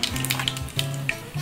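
A spoonful of mustard seeds sizzling in hot oil left over from frying bitter gourd, a close, crackling sizzle with sharp pops and a low hum beneath.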